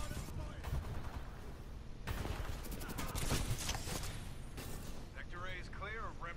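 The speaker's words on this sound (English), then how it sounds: "Panic and just start shooting at somebody on my own team." Rapid gunfire in a team shooter video game, bursts of shots ringing out across the stretch alongside dense game noise, with a voice talking in the background.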